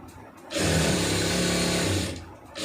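A sewing machine runs a seam on chudidar pants in one steady, loud burst of rapid stitching lasting about a second and a half, with quiet before and after and no talking.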